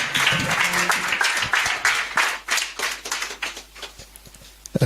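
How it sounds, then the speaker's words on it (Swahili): A church congregation claps hands together during a worship service, producing dense, sustained, energetic applause with overlapping sharp claps that swell and dip across the crowd. "Tupige makofi tunapopokea neno la Mungu"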